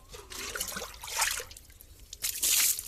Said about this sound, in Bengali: নাও পায়ে জল দাও